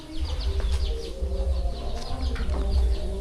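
Chickens cluck steadily at a backyard poultry spot in rural Laos, a busy overlapping flock close by with sharp repeated calls over a low rumble.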